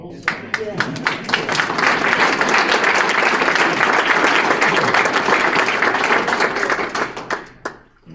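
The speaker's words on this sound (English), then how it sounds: "we didn't have an opportunity to give her an applause when she sat down" Sustained applause from an indoor audience at a community monthly meeting, many hands clapping steadily for several seconds before tapering off at the end.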